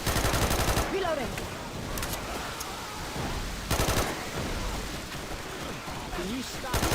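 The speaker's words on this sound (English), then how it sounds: "Can you stop shooting me?" Loud automatic gunfire in a video game comes in rapid bursts around the start, middle and end, with quieter stretches and voices talking between the volleys.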